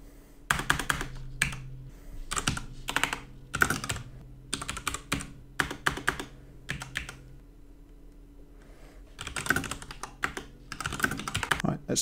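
Code being typed on a computer keyboard: bursts of rapid, close key clicks separated by short pauses, with a quieter stretch in the middle before fast typing resumes.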